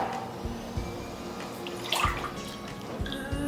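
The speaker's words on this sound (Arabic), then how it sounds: "نحط بعدين شوية مي بالكاسة." Water pours and splashes into a glass in a home kitchen while traditional Mardin kuba is being made, a few close, uneven trickles and drips with small clinks.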